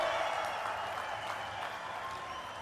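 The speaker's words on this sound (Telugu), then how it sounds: "ఆంధ్ర రాష్ట్రం మొత్తం వినపడేట్టుగా గట్టిగా చప్పట్లు కొట్టి నరేంద్ర మోడీ గారిని" An audience at a meeting applauds Narendra Modi with a steady, dense wash of clapping that stays fairly faint and distant, with no distinct voices.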